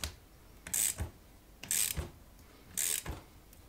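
A ratcheting wrench clicks in three short bursts of rapid ratchet clicks, close and fairly quiet, with pauses between them, during work on a sheet-metal chassis punch.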